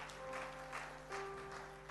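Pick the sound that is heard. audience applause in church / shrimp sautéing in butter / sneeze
audience applause in church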